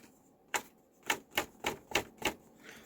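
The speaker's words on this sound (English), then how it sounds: "So it's a 3-ring binder, and I'm hoping you can hear that." Metal rings of a 3-ring binder on an art journal snapping and clicking, six sharp separate clicks at close range in a quiet room.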